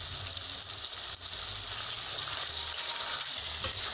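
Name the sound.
peas, carrots and tomatoes frying in a pan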